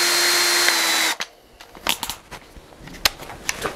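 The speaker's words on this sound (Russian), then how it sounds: "последний тест только для этого шуруповерта. Режим удара, сверло 6 мм." A cordless drill in impact mode with a 6 mm bit hammers loudly in a steady impact grind for about a second, then stops, followed by scattered clicks and clatter.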